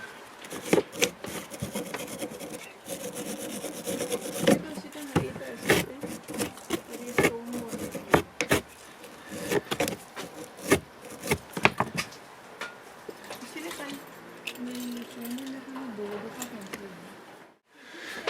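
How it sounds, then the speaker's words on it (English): Wire brushing of rusty nuts on a Toyota Yaris during MOT work, giving repeated rapid scratchy strokes, close and fairly loud, with a voice speaking over part of it. "I'm going to give them a quick wire brush, a bit of WD-40"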